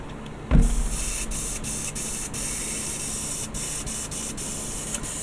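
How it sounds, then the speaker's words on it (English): A Bartsharp airbrush spraying: a close, loud, continuous hiss of air starting abruptly after a brief quiet moment and holding steady, with a few short interruptions. "then just give this a bit of another bit of spray here."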